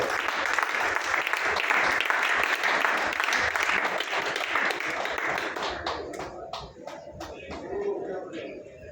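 A dense wave of audience applause at an Indian business meeting welcomes new members. The clapping is loud and sustained and thins toward the end into scattered individual claps.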